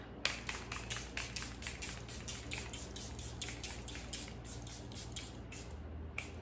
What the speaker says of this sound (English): We're gonna go in with the Charlotte Tilbury Airbrush setting spray.